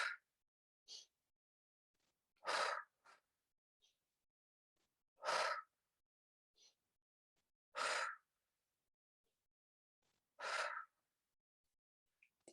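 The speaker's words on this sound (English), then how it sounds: "Excuse my breathing." Heavy breathing after a resistance-band shoulder workout: five loud, close exhales at a slow, even pace, with softer breaths in between and near silence around them.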